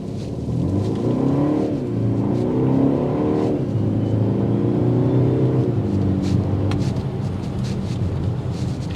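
A BMW X1 engine revs hard in a 0 to 60 acceleration run, climbing steadily in pitch through several gear changes, loud and continuous, with road noise underneath.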